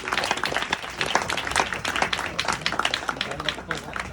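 An audience at a crypto club event in Tulum applauds as a speaker is welcomed onto the stage, giving a dense, steady burst of clapping with scattered cheers and a voice calling out over it.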